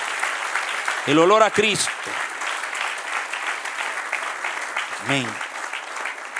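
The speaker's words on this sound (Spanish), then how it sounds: "denle un aplauso al que reina" Applause rises from a church congregation during a sermon, a steady clapping wash running the full length at moderate loudness, with a preacher speaking over it at the start and again near the end.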